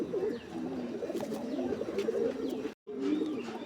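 A Malwai pigeon hen coos in soft, continuous low rolling calls, close but faint, cut by a brief silence near the end before resuming.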